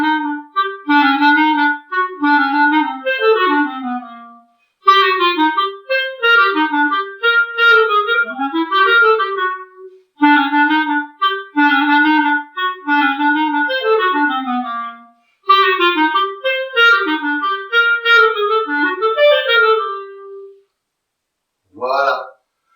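A clarinet plays a lively Latin American dance piece in quick ornamented phrases with short breaks between them, close and clear, with no talking over it.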